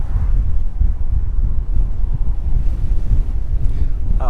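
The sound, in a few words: strong wind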